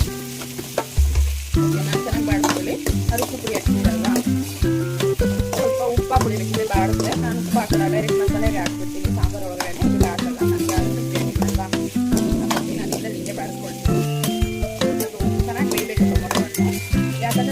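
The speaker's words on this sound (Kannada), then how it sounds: "ಮಸಾಲೆ ಸ್ವಲ್ಪ ಈ ಥರ ಬಾಡಿಸ್ಕೊಳ್ಳಿ" Tomato masala being sautéed in a pan for temple-style sambar, with a continuous busy sizzle and repeated stirring scrapes, heard alongside a speaking voice.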